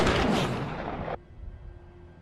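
A gunshot from the western film True Grit booms loudly and rolls away for about a second, then cuts abruptly to a quiet background.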